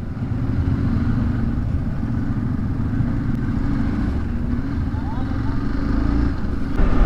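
Thirteen motorcycles ride in a group along a misty morning road, a steady close engine drone and wind roar throughout, swelling slightly near the end, with someone speaking over it.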